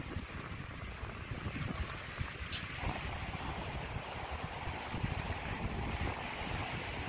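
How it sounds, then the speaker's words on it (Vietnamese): Strong seaside wind on an island in southern Vietnam buffets the microphone in gusty, fluttering rumbles over a wash of surf, steady and loud throughout with no talk. "Gió thổi lồng lộng luôn á, gió thổi lồng lộng luôn, các bạn có nghe có rõ không á?"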